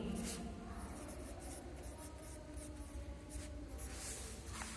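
Chalk or marker writing the lesson title on a classroom board during a Hindi lesson, a quiet scratchy scraping in short repeated strokes, faint and close.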